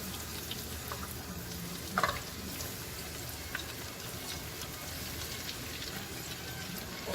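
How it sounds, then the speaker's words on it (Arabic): Potatoes fry in very hot oil while being stirred, giving a faint, steady sizzle with a couple of soft clinks. "حبدأ اقليهم مع التقليب المستمر، لازم اقلبهم باستمرار علشان ما ينحرقوا من جهة"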